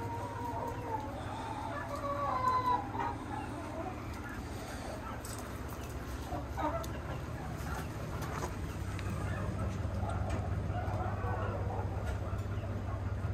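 Chickens cluck and a rooster crows in a farmyard flock of about 25 laying hens fed wheat and barley, the calls scattered and fairly close over a steady low background hum, with a person talking intermittently.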